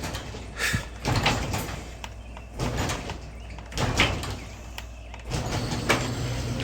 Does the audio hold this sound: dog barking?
no